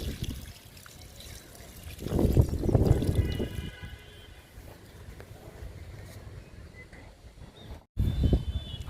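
Liquid fertilizer trickles and splashes onto spinach plants in a home garden tub, a soft pouring stream with louder bursts of flow near the start and end, no speech.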